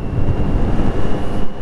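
A Yamaha XJR 1200 motorcycle engine roars in a low, rumbling drone while riding in traffic, mixed with wind buffeting on the microphone, loud and continuous.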